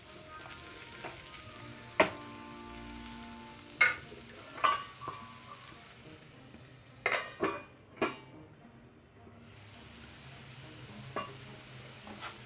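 Capsicum masala curry with coriander and coriander powder simmering and sizzling in a pan, a soft steady fizz broken by several sharp clinks and scrapes of a spoon against the metal.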